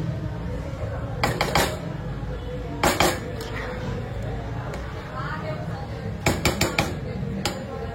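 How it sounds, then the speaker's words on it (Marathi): A lid clinks and clatters against a pot of prawn biryani in a few sharp metallic knocks, close by, over a low simmering background with a voice talking. "मग आपण झाकण देऊ."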